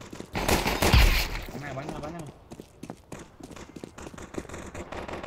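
Rapid bursts of gunfire in Counter-Strike on the de_Inferno map, loud at first and then trailing into scattered shots and footsteps, with players talking over the action.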